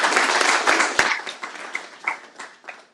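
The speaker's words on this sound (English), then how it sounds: "Just love to give them a round of applause." Audience clapping at a talk about Christian learning communities, dense at first and thinning over three seconds into scattered individual claps, close and lively with no speech over it.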